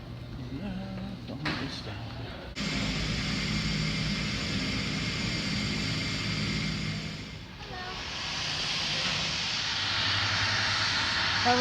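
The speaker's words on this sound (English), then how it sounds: "Haven't flown on a turboprop in a long time." A turboprop airliner engine drones steadily from inside the cabin, a loud continuous roar that starts abruptly after a brief quieter moment, dips for a second and then swells again, with voices faintly audible beneath it.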